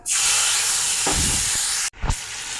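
Bay leaf, whole cumin and a wet spice paste hit hot oil with a loud, steady steam-like hiss, close by, then a sharp burst of fresh sizzling as more paste goes into the pan.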